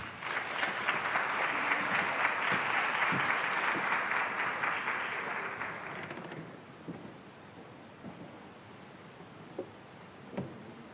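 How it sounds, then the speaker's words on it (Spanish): An audience at a university panel on harassment and gender violence in medical practice applauds a speaker, steady dense clapping for about six seconds that then fades to near silence with a few isolated small sounds. "Un aplauso para ella, por favor."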